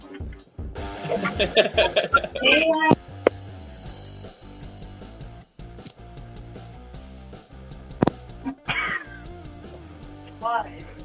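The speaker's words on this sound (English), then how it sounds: "Just had a cat jump on me too." A cat meows a few times, short and fairly close, among game sounds and scattered background noise, with people talking around it.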